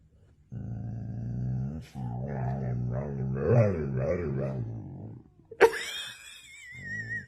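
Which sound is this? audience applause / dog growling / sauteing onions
dog growling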